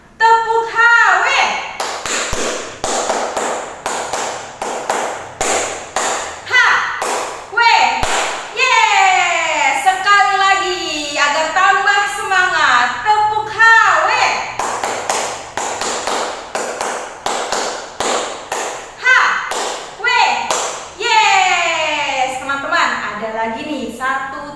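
Hizbul Wathan scouts perform the tepuk HW clapping chant: crisp, rhythmic hand claps in quick patterned bursts, interleaved with sung and chanted voices, close and loud throughout.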